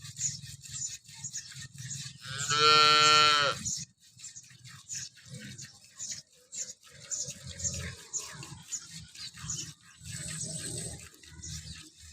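A cow at a village dairy farm in Tharad, Banaskantha, gives one loud, drawn-out call early on, followed by scattered low farmyard noises and faint background sounds.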